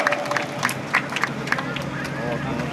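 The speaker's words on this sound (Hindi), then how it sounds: "जोरदार तालियां।" Scattered clapping from an audience at an outdoor flag-hoisting ceremony, uneven sharp claps spread across a low crowd murmur with voices talking nearby.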